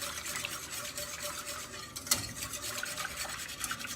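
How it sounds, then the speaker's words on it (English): Dairy-free carob hot chocolate sweetened with agave is whisked in a pot, giving a soft continuous scraping and stirring with one sharper clink of the whisk against the side. "And you just whisk it and get the lumps out from the carob."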